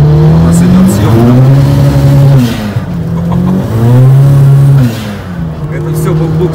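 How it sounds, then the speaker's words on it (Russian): A turbocharged car engine revs repeatedly, rising and falling in pitch as the wheels spin without grip on a wet road, loud and close, with a voice talking over it. "Машина буксует."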